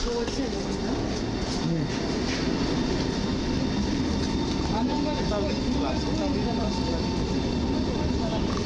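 A train rolls loudly into platform 6 at Warszawa Zachodnia station, steady rumbling and clattering of wheels on rails filling the whole stretch with continuous noise.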